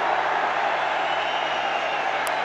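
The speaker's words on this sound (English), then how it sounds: "He's got the roar from the crowd." A cricket stadium crowd at a Pakistan vs Zimbabwe international roars in a steady, broad wash of distant noise with no clear breaks.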